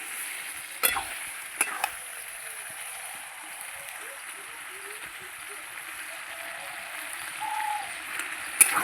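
Goat fat and chicken sautéing in a covered pan, a low steady sizzle with a couple of sharp clinks of a lid or spoon and soft bubbling pops, close and fairly quiet.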